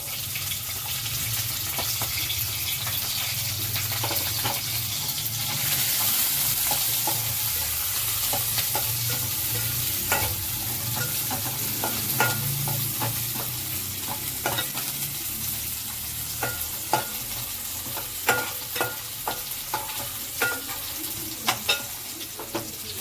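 Onions frying for vegetable fried rice, a steady loud sizzle in a pan with a spatula scraping and clinking at irregular intervals, growing more frequent toward the end, with no talking.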